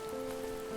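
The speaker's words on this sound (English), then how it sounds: "The rain cascaded onto the jade valley where the entrance to the tree was." Rain falls steadily onto a jade valley, a soft, even hiss of drops heard alone at a constant moderate level.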